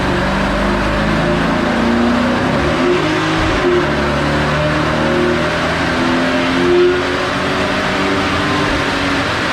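A Porsche 928 engine revs hard and continuously on a dyno, runs up to 6,500 rpm, pitch climbing and falling through sustained runs, loud and close with a deep roar throughout.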